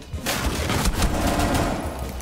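Shotgun blasts in Rainbow Six Siege, a dense burst of loud, close firing that runs almost without break for about two seconds, with the reports smeared together and no talking over them.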